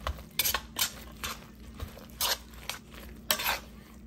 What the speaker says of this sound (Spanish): Ahora sí vamos a revolver bien.